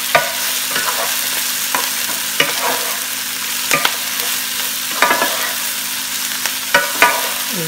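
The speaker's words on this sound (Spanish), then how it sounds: "Vamos a remover, ¿verdad? Hasta que se cocinen nuestros vegetales." Chopped vegetables and mushrooms fry in a hot pan with a steady close sizzle, broken by repeated scraping stirs of a utensil roughly every second.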